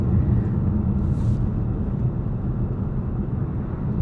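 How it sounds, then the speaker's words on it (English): Cabin rumble inside a 2023 VW Tiguan SEL R-Line driving over a rough, bumpy road, a dense continuous low road roar with uneven thumps from the surface, steady and fairly loud, no talk. "this is a pretty rough road right here. Has a lot of bumps and stuff."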